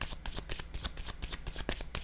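Tarot cards are shuffled rapidly for a reading, a dense, close riffle of quick papery flicks with no voice.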